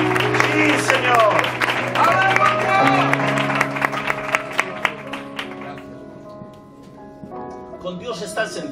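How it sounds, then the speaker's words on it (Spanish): A church congregation claps and cheers with loud voices and music over the applause, which thins out toward the end. "¡Aplaudo al Señor!"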